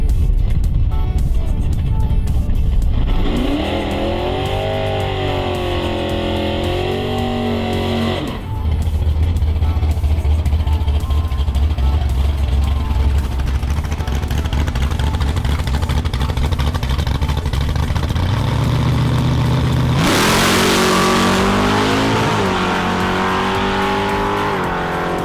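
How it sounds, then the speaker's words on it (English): A Fox Body Mustang on nitrous races a turbocharged Golf 7R at a private drag event, engines roaring loud with rising revs, abrupt gear changes and a fresh high-pitched launch near the end. "Now we're going to see Bradley's Fox Body Mustang go up against the Autotech Golf 7R"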